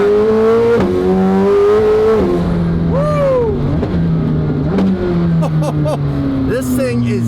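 A new McLaren 750 with carbon fiber bodywork pulls away, its engine revving up through rising pitch sweeps and gear changes, loud and close, with chatter over the top.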